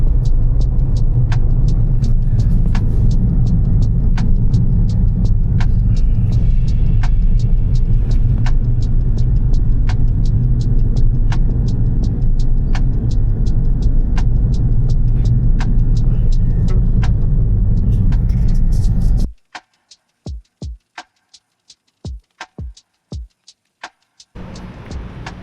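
Steady low rumble of a car interior while driving after a hike near Chico, California, loud and continuous for about nineteen seconds, then dropping away to near silence broken by a few short sharp clicks.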